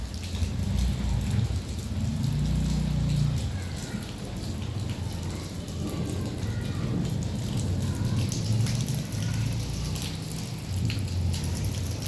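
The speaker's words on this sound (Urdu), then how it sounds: "آسمانی بجلی کے روبدار آواز آپ سن سکتے ہو۔" A rain and hail storm with thunder in Quetta, heard as a steady roar of heavy rain with low rumbling underneath that swells and fades over twelve seconds, with no talking.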